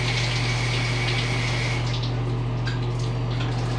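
Shower water runs steadily and loudly at close range, a constant rushing spray with a low steady hum beneath it and no voices.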